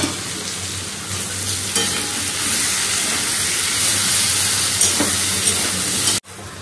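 Potatoes frying in a pan with grated ginger, a loud continuous close sizzle with scraping stirs, cut off abruptly near the end.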